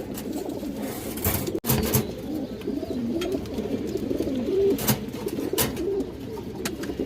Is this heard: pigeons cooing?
yes